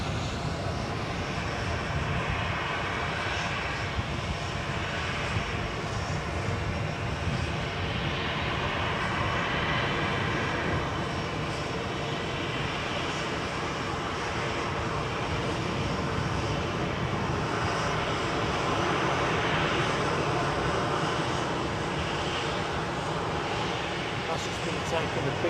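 Aircraft engines drone steadily at Edinburgh Airport, a constant loud roar with a hint of propeller hum that lasts throughout, while a person talks over it.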